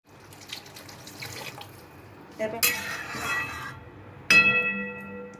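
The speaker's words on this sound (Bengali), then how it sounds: "আর একটু জল লাগবে।" Water pours from a tap into a pot of masoor dal with cucumber being readied for boiling, a splashing run that stops and then starts again more loudly, with a metallic clink in between.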